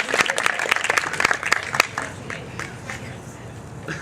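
An audience at a roast claps and cheers as an act takes the stage, with dense, uneven bursts of clapping that thin out after about two seconds while voices carry on underneath.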